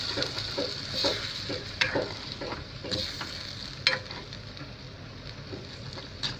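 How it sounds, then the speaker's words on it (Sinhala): Chicken and tomato puree stirred in a frying pan for a kadai chicken curry, a steady close sizzle with repeated scraping strokes of the spoon every second or so. "චිකන් ටික එකතු කරලා මේ විදිහට කවලම් කරන ගමන් මම මේකට අපේ ටොමැටෝ පියුරි ටික මේ විදිහට එකතු කරගන්නවා"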